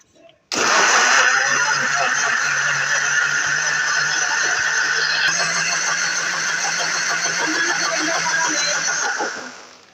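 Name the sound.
blender blending muskmelon juice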